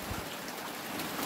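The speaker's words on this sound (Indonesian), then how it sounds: "masih diguyur hujan" Rain falls steadily in a soft, even hiss, faint and continuous, with no voices.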